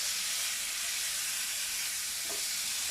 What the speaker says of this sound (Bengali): মাংসটা ভালো করে ভেজে নেব